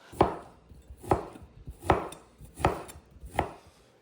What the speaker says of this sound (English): I'm going to cut the bacon crosswise into lardon.